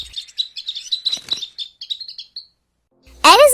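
Rosy-faced lovebirds in Phoenix give rapid, bright chirps in a quick run that fades out, followed by a sudden loud burst of close squawking at the end.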